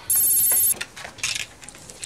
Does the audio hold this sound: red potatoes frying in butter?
no